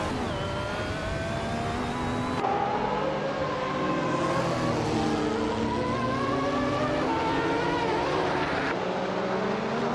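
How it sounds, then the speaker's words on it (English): A 1990 Mazda 787B with a rotary engine screams through a racing video game, loud and high-pitched, its note climbing and dropping as it shifts gears over several seconds. "Jekyll is driving the 1990 Mazda 787B, known for its rotary engine and distinctive sound."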